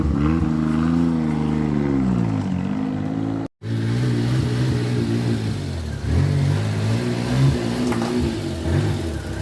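A car running on new wheels and tires rolls over bumps, its engine revving and shifting pitch up and down, with a brief dropout partway through and a steady mid-level drone from close by.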